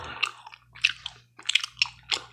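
Close, crisp crunching of salty potato chips and a juicy cheeseburger bitten and chewed together, a few distinct crunchy bites separated by short pauses, quiet and intimate.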